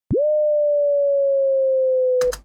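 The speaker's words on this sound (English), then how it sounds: "I'm going to change the waveform to a sine wave" A pure sine wave synth tone from NI Massive holds steady and loud for about two seconds after a quick pitch swoop at the start, then cuts off with a short click.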